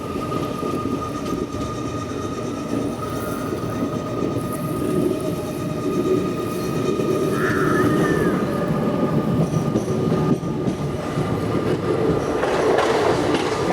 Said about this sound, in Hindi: और आजमगढ़ एक्सप्रेस के पीछे लगे हुए हैं बैंकर लोकोमोटिव्स, जो आप घाट देख रहे हो उसको असेंड करने में मदद कर रहे हो उसको।